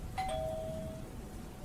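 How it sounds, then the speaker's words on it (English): A doorbell rings in a home office setting with a short bright chime that rings out and decays over about a second against a quiet room hum. "when the doorbell rang."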